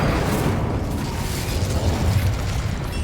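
A Confringo fire spell blast in Hogwarts Legacy: a loud, booming burst with crackling fiery rumble that rolls on and swells again midway through a dense, noisy combat mix.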